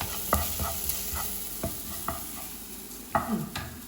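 Masala spice paste stirred as it fries in a pan, a steady sizzle broken by several sharp scraping knocks of the spoon at irregular intervals, close and moderately loud with no voices.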